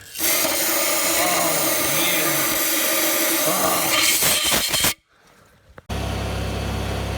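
Brake cleaner sprays onto engine parts of a 24-valve Cummins turbo diesel, a loud continuous hiss lasting about five seconds, then a brief quiet gap before a steady hum resumes.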